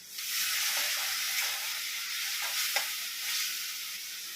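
Water poured into a hot pan of spiced capsicum curry with green chilli, salt and red masala, a loud close hissing sizzle that swells and fades with a few stirring scrapes.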